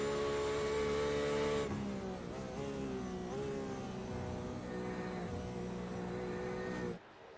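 Race car in the iRacing simulation at Le Mans, its engine droning loud and steady with pitch shifts as it brakes and accelerates through chicanes, then cutting off abruptly at the end.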